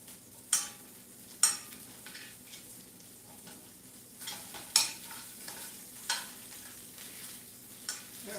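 Meatballs fry in a pan that was not properly preheated, a soft steady sizzle broken by several sharp clicks of a utensil against the pan at irregular intervals.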